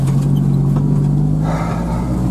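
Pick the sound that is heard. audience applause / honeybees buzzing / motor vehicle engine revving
motor vehicle engine revving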